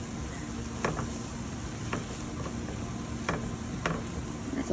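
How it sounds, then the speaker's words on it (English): Butter being stirred into flour in a pan over medium heat, a steady soft sizzle with occasional scraping strokes of the spoon, close and continuous with no talking. "we're gonna add the second stick of butter into the flour. Mix that in."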